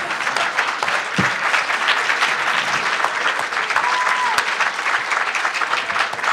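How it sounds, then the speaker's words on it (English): Loud, sustained applause from an audience at a talk on neighborhood and charter schools in CPS, a steady wash of clapping close by with a few sharper individual claps. "Round of applause."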